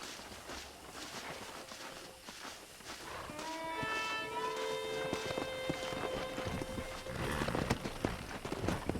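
Horse hooves clip-clop in Red Dead Redemption while cattle low in a long, mooing call, all set against a steady bed of outdoor game ambience.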